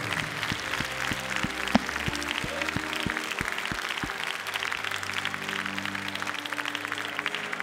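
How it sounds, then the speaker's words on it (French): Audience applauding at a Jersey cattle show, continuous dense clapping from a crowd at moderate distance, steady throughout, with a rhythmic low thumping pattern in the first half. "Cher public, je vous demande un applaudissement très chaleureux."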